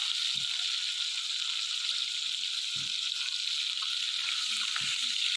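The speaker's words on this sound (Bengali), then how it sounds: "আমার মাছ ভাজা হয়ে গেছে, তুলে নেবো।" Fish frying in a pan over a village cooking fire, a steady loud hiss of hot oil running throughout, with a few soft low knocks from the pan or turner in between.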